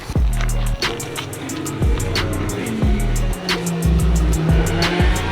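A racing simulator running a car around the Snetterton circuit: engine notes climb repeatedly through rising revs, each gear change making a quick drop, with occasional tyre squeal, loud and close.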